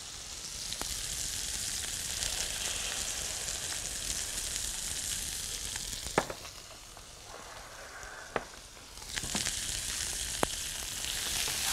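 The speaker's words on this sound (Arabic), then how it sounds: "هننزل بعصير التفاح" Apple juice poured into a hot pan with caramelizing protein hisses in a steady, close sizzle, broken by a few sharp clicks and taps, with no talk.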